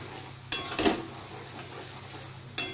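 Onion, tomato, green chili and garlic paste frying in a pan gives a low, steady sizzle, broken by a few sharp clinks and scrapes of a utensil stirring against the pan.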